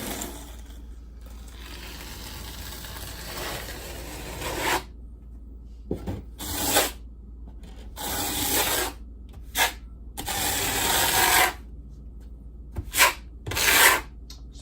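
Trowel scraping and smoothing Mapei tile mortar on a granite tile countertop, a rough rasping rub that comes in repeated bursts of strokes, some longer and some short, at close range.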